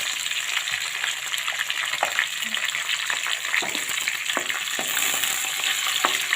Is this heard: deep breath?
no